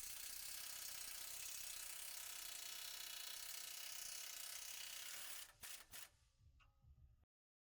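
A hand ratchet loosens the U-bolts during a rear shock install on a 2WD Mercedes Sprinter 2500/3500 van, clicking rapidly and continuously for several seconds before a few slower, separate clicks and then silence.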